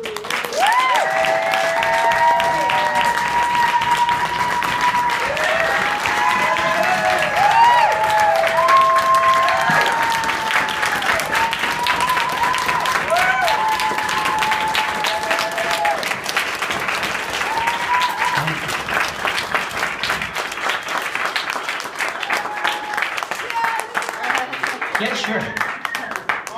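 Sustained audience applause fills a poetry reading, a full crowd clapping steadily for the whole stretch with voices and cheers rising over it before the clapping thins slightly near the end.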